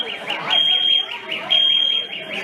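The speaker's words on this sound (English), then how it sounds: "He set off the freaking fire alarm." A fire alarm blares with a loud, piercing beep pulsing in fast repeated bursts, while people talk over it in an indoor space.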